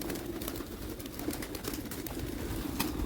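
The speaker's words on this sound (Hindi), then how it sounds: "कबूतर सारे बंद कर देते हैं अब।" Pigeons cooing at close range, a steady low burbling coo that repeats over a few seconds against a noisy background, faint and without speech.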